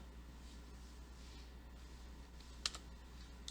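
A single quick key press on a computer keyboard, the Ctrl+Enter shortcut, gives a short double click that stands out sharply against a quiet, steady room hum.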